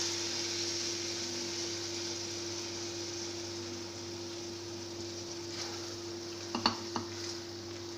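Lentils sizzle steadily in a pan of spice masala, a continuous, even frying hiss, with a few sharp scraping stirs near the end.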